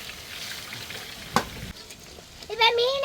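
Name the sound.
stirring fish frying in a pan over fire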